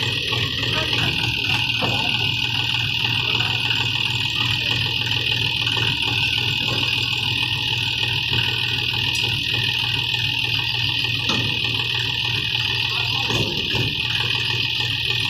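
A tractor engine's steady, droning hum runs unbroken at close range, loud and constant with a buzzing tone throughout.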